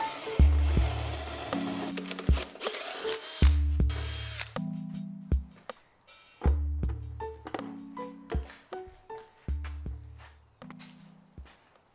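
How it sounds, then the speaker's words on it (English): Power drill boring holes in motorcycle windshield mounting brackets, several short bursts of whirring separated by pauses, thunks and taps of handling nearby. "drill a couple holes so I can test fit everything on the bike"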